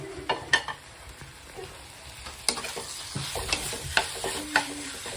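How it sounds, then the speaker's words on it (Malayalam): Onion and tomato fry in a pan for a squid fry, giving a steady sizzle close up, broken by scraping stirs and a few light clinks of the utensil against the pan. "ഇനി നമുക്ക് അതിലേക്ക് തക്കാളി ഇട്ട് കൊടുക്കുക"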